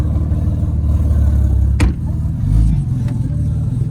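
A heavily boosted 1500 bhp BMW M3 Competition running on low boost at 30 psi roars loudly from inside the car, a dense steady engine drone with a brief dip and a sharp crack midway before the pull resumes.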